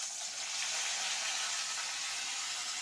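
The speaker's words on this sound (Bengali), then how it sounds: "আর ওই মাছ ভাজার তেলে এই যে কালো জিরে ফোড়ন দিচ্ছি।" Nigella seeds spit and sizzle in hot oil left from frying fish, a steady, close, bright crackling hiss that holds evenly throughout with no voices.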